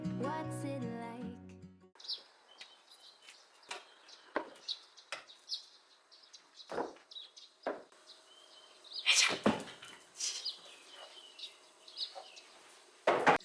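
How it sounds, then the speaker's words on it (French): Small birds chirp and call outside open windows on a sunny day, with scattered short tweets and a few sharper bursts, fairly faint and distant, after a brief stretch of music at the start. "J'entends les oiseaux chanter, c'est trop agréable."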